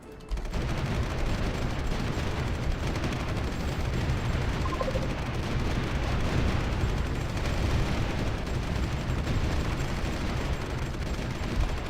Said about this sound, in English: Another massive attack. They have sent only anti-tank and artillery.